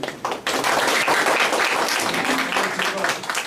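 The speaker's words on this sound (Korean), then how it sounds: "큰 박수로 맞이해 주시기 바랍니다" Audience applause at an agricultural policy forum, welcoming a Jeju citrus policy official to the podium: dense, steady clapping from a room of listeners that starts abruptly and holds at full strength throughout.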